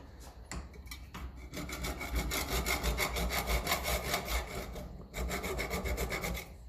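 Hand saw cutting a part clamped in a vise during work on a 1953 Ferguson TEF 20 diesel tractor, rapid rhythmic back-and-forth rasping strokes, close and steady, pausing briefly before resuming.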